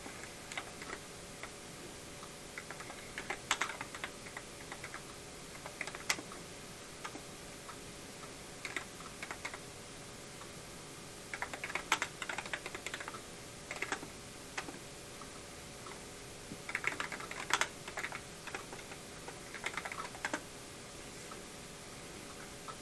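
A console keyboard with a screen and cartridge slot is typed on in short bursts of faint clicking keystrokes separated by pauses over a quiet hiss.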